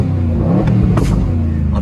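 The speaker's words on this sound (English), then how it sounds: "I'm in park, so I'll give it a little rev. I'll open up the window and we'll wake this thing up here." Aston Martin Vantage (2025) engine revving while sitting in park, a loud, steady low rumble with a brief rise in the middle, heard up close from inside the car.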